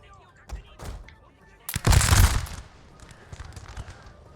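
A ragged volley of musket or gun fire in Shogun 2: Total War, a dense loud burst of cracks lasting about a second, with a few scattered shots before and after, under faint talk.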